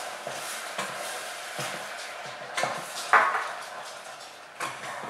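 A spoon stirring rice pudding flavoured with vanilla in a pot, giving soft scraping sweeps and a few sharper knocks against the metal, quiet and close with no talk.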